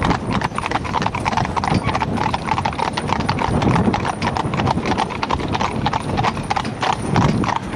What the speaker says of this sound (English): If you look at the Wheeler horse, in the Wheeler horses here, the near side horse